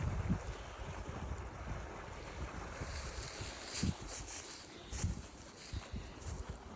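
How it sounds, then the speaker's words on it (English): Continuous rushing water pouring out of a pipe after an ice storm roars nearby with low rumbling surges, steady and fairly loud, with no voices. "Listen to the speed that the water's coming out of there."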